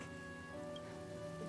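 Rain falls steadily in a Honkai Star Rail video game scene, a faint, even hiss of drops with a soft tonal hum underneath.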